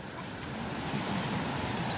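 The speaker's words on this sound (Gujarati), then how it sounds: "નદીના ખળખળ ઝરણા" Steady rushing water runs throughout, even and moderately loud, like a river stream flowing over rocks. No voices are present.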